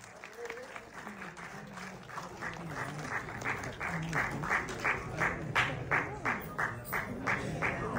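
An audience claps for a couple honoured as couple of the year at a community event in Tirunelveli, with dense applause that swells into rhythmic, near-unison clapping and a voice faintly heard underneath.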